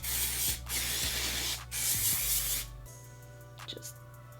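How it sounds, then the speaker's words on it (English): Hairspray sprays onto hair in three loud hissing bursts with brief pauses between them, then a faint rustle follows. "And then just take some hairspray."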